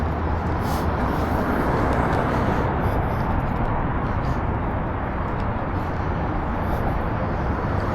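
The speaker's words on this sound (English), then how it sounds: "Heard a plane." A steady, low roar of an aircraft passing over Washington, DC fills the air, constant and broadband, with faint distant rumble and no talking.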